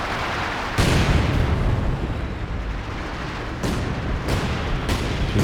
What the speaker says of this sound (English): Artillery barrage coming in now.